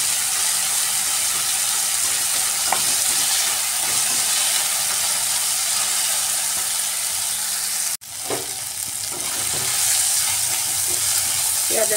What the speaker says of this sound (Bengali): পেঁয়াজগুলোকে আমি একটু গোলাপি কালার হওয়া পর্যন্ত ফ্রাই করে নেব।